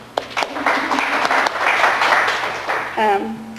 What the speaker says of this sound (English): First of all, I would like you to applaud yourselves.